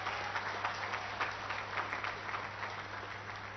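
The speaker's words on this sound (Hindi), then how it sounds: "चलो तालियों की गड़गड़ाहट से।" A crowd at a minister's outdoor public event gives a steady round of applause, faint and a little distant, with dense clapping over a constant low electrical hum.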